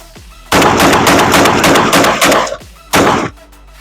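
Shotgun firing nine rounds of double-aught buckshot in fast succession, a loud burst of sharp blasts packed into about two seconds, then a short pause and one final shot, close and unaccompanied by talk.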